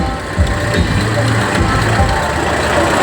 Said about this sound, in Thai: อันนี้รถไถอะไรครับ